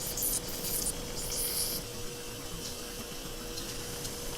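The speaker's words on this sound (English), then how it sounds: "I'm going to have to grind in and get a better idea of what's going on." A Brazilian opal stone with sand on its surface is ground on a wet wheel, making a steady, close, continuous whirring wash of water and grit with no talking.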